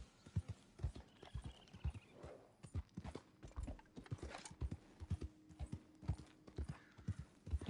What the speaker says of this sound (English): It's a white horse.